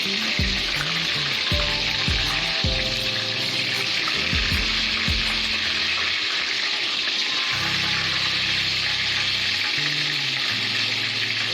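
Chicken leg pieces sizzle and crackle steadily in hot oil, half-fried, with a few clunks of a utensil and water-like bubbling underneath, loud and continuous throughout.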